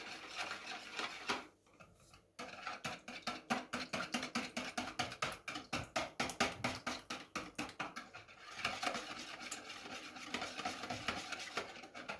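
Steady, rapid rhythmic scraping strokes of pancake batter of eggs, sugar, milk, flour and oil being stirred in a bowl, continuing for several seconds after a brief pause.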